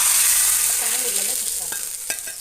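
Tempering of spices (oggarane) sizzling in hot oil in a home kitchen, a bright steady crackle with faint stirring scrapes and a few sharp pops, close and alone with no talk.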